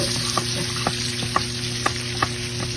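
Onion and garlic sautéing in hot cooking oil, a close, steady crackling sizzle with several sharp pops and utensil taps spaced through the short stretch.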